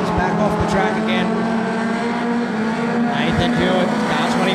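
National 4 race cars circle Cairns Speedway during a heat, engines roaring and passing with bursts of tire noise, while an announcer calls the race over the loudspeaker.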